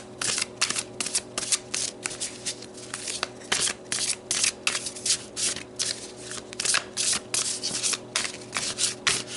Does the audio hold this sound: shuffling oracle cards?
yes